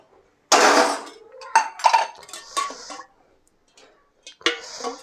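A metal cooking pot set down on a home stove gives a sharp, loud clank followed by several lighter clinks and scrapes of metal, close by, with short quiet gaps between them.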